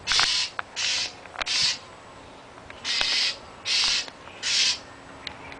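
An aggressive wild bird squaring off with a pet gives a series of harsh, raspy caws, about six loud bursts spaced irregularly, close by against quiet outdoor background.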